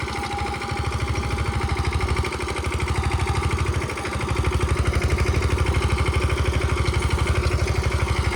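A Yuvraj 215 tractor, a small 15 HP farm machine pulling a seven-tine seed drill, runs its engine with a fast, steady thumping pulse, close and loud, with a couple of brief dips before the rhythm steadies.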